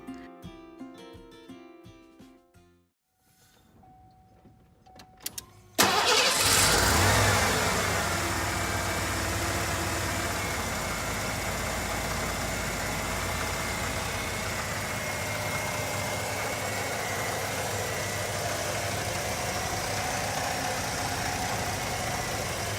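A 1990 Ford Bronco's 5.0-liter EFI V8 with a 4-speed automatic idles steadily and close up after a brief bit of background sound, holding a continuous even rumble throughout.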